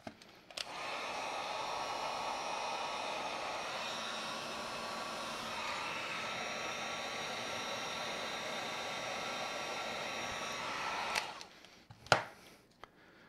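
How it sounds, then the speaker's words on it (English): Heat gun shrinking heat shrink tubing over wires on a cheap 2s-6s LiPo discharger, a steady close airy blowing roar lasting about ten seconds, then a click as it shuts off and a brief knock in the quiet afterward. "Now we can heat shrink our converter."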